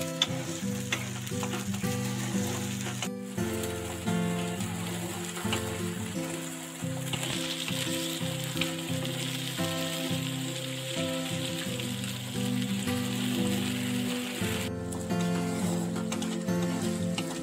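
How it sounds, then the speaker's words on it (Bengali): Steady loud sizzling of tomato paste and spices frying in a pan for cabbage dalna, with scraping and stirring sounds throughout, no voices. "এবার আমি এগুলোকে দু থেকে তিন মিনিট ভালো করে ভেজে নেব"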